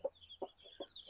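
Newly hatched chicks peep faintly in a thin high chirping line, broken by four or five soft low clucks spaced evenly.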